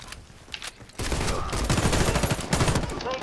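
Rapid bursts of close automatic gunfire in a Warface clan war match, starting quieter and turning into a loud sustained stream of shots with short gaps between bursts.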